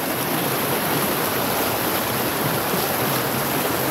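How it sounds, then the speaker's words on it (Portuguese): Strong water rushes loudly and continuously in a close, steady roar at the Lajedo stream in Barra do Garças, Mato Grosso. "a água é muito forte."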